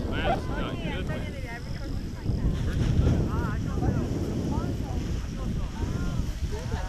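Steady wind rushing and buffeting across the microphone during a paragliding flight in Korea, with people talking over it throughout.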